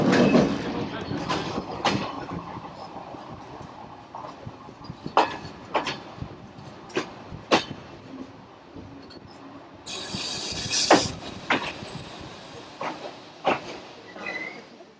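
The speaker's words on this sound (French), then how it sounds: "Notre train entre en gare à faible vitesse sur une voie en impasse." A train slowly rolls into a station on a dead-end track, with rhythmic clickety-clack wheel thumps over rail joints and a hiss later on, moderately loud and close.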